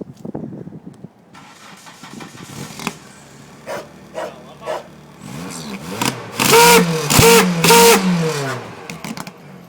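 A car engine starts up, then revs in a series of short bursts as the gas is pressed, climbing to several loud, sustained revs near the end.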